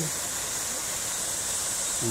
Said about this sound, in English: one of the 3 waterfalls in Central Park.